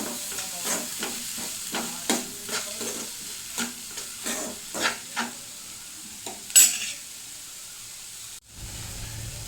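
Fenugreek leaves and paneer gravy with softened tomato and salt are stirred in a pan, giving about a dozen rhythmic scraping strokes over a faint sizzle, followed by a brief clatter.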